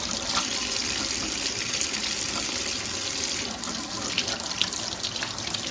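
Onions being washed under a running tap in a sink, a steady close rush of water pouring continuously throughout with no talking.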